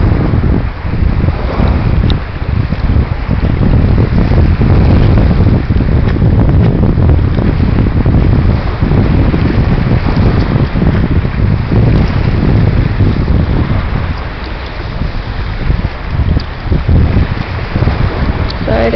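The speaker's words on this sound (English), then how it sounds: "I'm sure you guys can hear the waves." Ocean waves and strong wind in Jamaica roar continuously and loudly while the recorder stands in the water, a dense, rushing wash with only slight dips in level.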